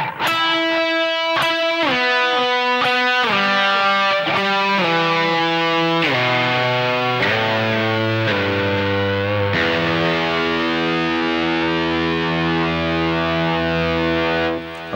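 A distorted electric guitar plays the ending phrase of a solo, a descending run of bent notes, then a long sustained final note ringing out loudly.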